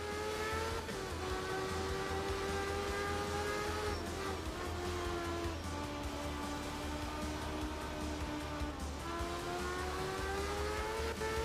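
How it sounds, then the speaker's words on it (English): A rotary-engine rally car in the video game Art of Rally revs hard and high, its steady harmonic whine climbing and dipping through repeated gear changes, loud and continuous throughout. "this rotary brings it back. I love the sound of this car."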